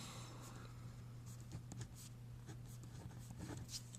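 Pen or pencil writing on paper while a math problem is worked out, light scratchy strokes coming in short bursts over a steady low hum, close and fairly quiet, with no talking.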